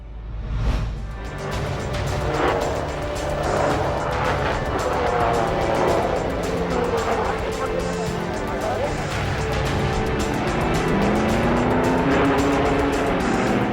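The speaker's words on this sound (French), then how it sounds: "les pilotes actuels continuent de parcourir le même tracé sinueux qui fait de Pau un circuit de légende" Racing cars at the Pau Grand Prix, a winding street circuit, make a continuous loud engine roar with rising and falling revs as they pass, while a voice speaks over it.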